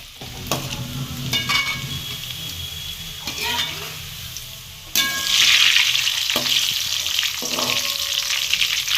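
Garlic and whole dried red chilies fry in hot oil for a Tamil tomato pickle, a continuous close sizzle with scraping stirs and occasional clinks of a spoon against the pan; the sizzle grows louder partway through, with no talking.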